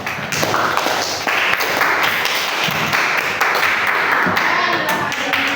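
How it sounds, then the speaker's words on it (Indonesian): University students in a classroom clap for a classmate, a loud burst of mixed claps and taps that keeps going in uneven surges, with some voices mixed in. "Tepuk tangan untuk teman"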